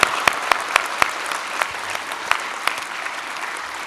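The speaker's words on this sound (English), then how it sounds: "Please honour them again with your applause." An audience claps for newly presented graduates at a university graduation ceremony in Brisbane, a steady wash of applause with a few sharp individual claps standing out, loud and sustained without talk.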